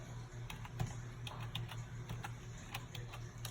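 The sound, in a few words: typing on a computer keyboard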